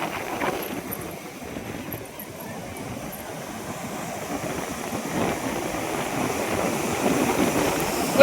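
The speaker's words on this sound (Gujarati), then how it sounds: "કોઈ માં દરિયો ગાજે તો જો." Sea waves roaring on the shore at Madhavpur beach, heard as a continuous, fairly loud low rumble and wash of surf with no distinct breaks. No one speaks.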